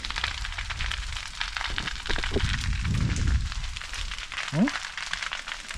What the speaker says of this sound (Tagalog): Ah, naglaro na naman ang apoy.